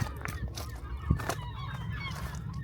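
Seagulls call at a seaweed-covered sea wall by an old star fort, giving honking, squawking cries over steady wind and surf noise, with a sharper call near the middle.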